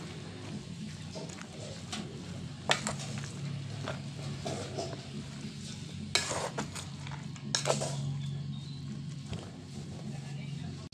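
Carrots being stirred into lumpia shanghai filling in a bowl, with scraping and clinking of a utensil against the bowl, a few sharp knocks, soft rustling throughout, and a person talking over it.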